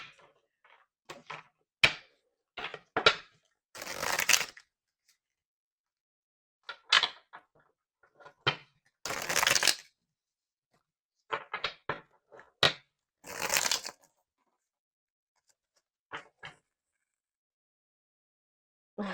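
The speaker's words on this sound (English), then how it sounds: "I was already seeing this card in my head while I was shuffling this deck" A deck of tarot cards is shuffled in short, irregular bursts of crisp riffling and slapping, each lasting under a second, close and fairly quiet, with silent pauses between and no speech.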